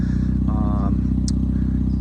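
A Mazda RX-7 FD rotary with a fitted rear diffuser gives a steady, low exhaust drone with a brief higher whine partway through, heard up close.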